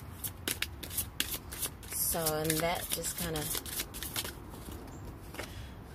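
Tarot cards being shuffled by hand during a reading, a steady crisp riffling and flicking of card stock that runs throughout, with a person speaking softly over part of it.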